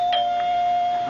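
A doorbell rings at the front door in a radio drama, a clear sustained electric tone with a couple of faint strikes near the start.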